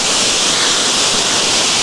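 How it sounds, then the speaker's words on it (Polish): Strong wind with rain lashing a levada trail near Levada do Risco on Madeira, a dense, steady broadband roar filling the short stretch, loud and close with no talking. "tak wieje wiatr i pada deszcz"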